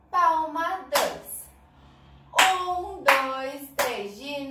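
Small children in a baby class clap their hands in short counted bursts, two or three claps at a time with pauses between, while a teacher's voice and children's chatter mix in close by.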